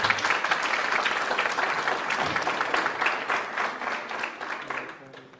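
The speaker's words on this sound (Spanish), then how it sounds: "Denle un aplauso al Señor." A church congregation claps together during a Spanish-language worship service, broad sustained applause that stays full before tapering off toward the end.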